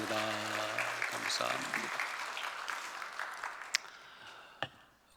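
Congregation in a Korean church breaks into applause under a voice that speaks briefly, the clapping starting fairly full and then tapering off toward the end.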